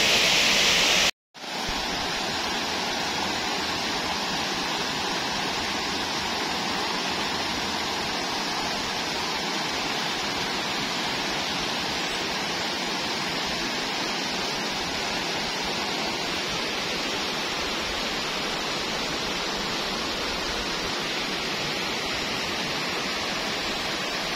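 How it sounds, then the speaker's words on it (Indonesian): Steady, roaring rush of the Porte waterfall in Makale, loud and continuous, with no voices. A brief cut happens near the start. "kita akan mencoba mengelilingi objek wisata air terjun ini"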